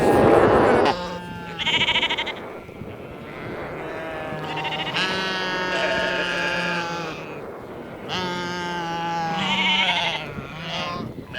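Flock sheep bleat repeatedly in long, wavering, overlapping calls, loud and close, with brief gaps between cries and a short burst of rustling at the start.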